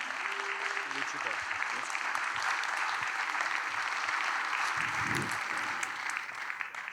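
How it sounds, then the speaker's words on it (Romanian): Sustained applause from an audience for young prize winners at an awards gala, thick and even throughout, with a faint voice briefly audible beneath it. "Din nou aplauze pentru premianții noștri"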